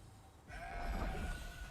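Sheep bleating in the game Throne & Liberty: a single nasal, wavering bleat starts suddenly and holds steady at moderate volume.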